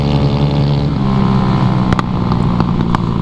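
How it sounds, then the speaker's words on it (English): A fast scooter engine drones loudly and close at a steady pitch, broken by three or four sharp, crackling backfire pops toward the end. "Those backfires sound sick."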